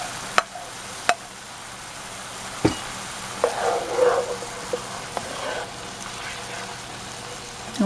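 Sausage browning in a pan for spaghetti meat sauce, with a soft steady sizzle punctuated by a few sharp utensil clicks and a brief louder burst of frying midway.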